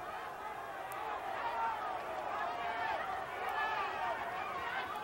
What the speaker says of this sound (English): And you can hear the crowd as they start to get in it here in the fight.